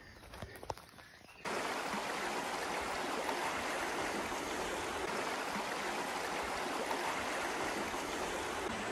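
A river flows beside a mountain trail in Snowdonia, a steady broadband rush of running water that rises abruptly after a brief rustling start and then stays loud, close and constant, with no talking.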